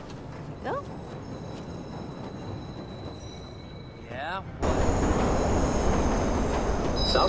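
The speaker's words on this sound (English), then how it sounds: "Southbound train arriving shortly." A southbound train pulls into a station in the video game Watch Dogs, with rail rumble and squealing wheels that build into a loud, close roar near the end, under a station announcement.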